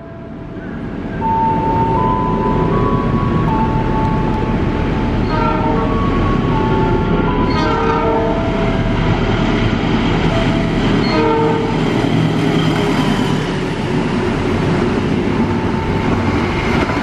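Cakrabuana and Argo Sindoro trains pass through Tambun station, a loud steady rumble of rolling carriages with rhythmic clatter and a horn sounding, sustained close by for most of the stretch.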